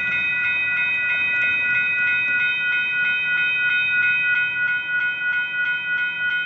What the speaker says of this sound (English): we're gonna have a southbound UP train coming